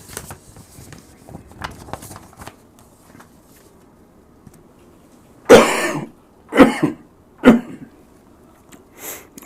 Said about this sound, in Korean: 죄송합니다. 지금 기침이 좀.